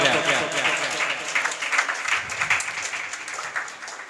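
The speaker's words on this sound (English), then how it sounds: "Please clap for him for giving his precious time in our program." Applause from an audience at a school Teacher's Appreciation Day celebration, moderate and steady, with a voice speaking over the clapping throughout.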